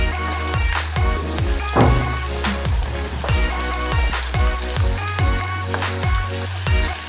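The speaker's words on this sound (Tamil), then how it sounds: "இது நல்லா ஃப்ரை ஆகிட்டு இருக்கும்போது ஃப்ரெஷ் ரெட் சில்லி." Fresh red chillies fry in hot oil for Schezwan paste, giving a steady, dense sizzle throughout with faint tonal music running underneath and no talking.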